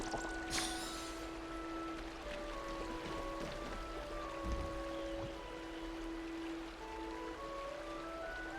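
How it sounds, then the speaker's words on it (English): Gentle flowing water of a water harp in a video game, quiet and steady, with soft sustained tones ringing over it and a brief splash near the start. "A water harp, an instrument blessed by Pagausa, is capable of producing a riveting melody"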